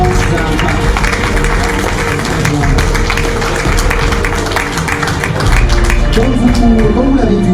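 Audience applause fills the room at an art exhibition opening, steady dense clapping throughout, with crowd noise and a voice or two talking underneath.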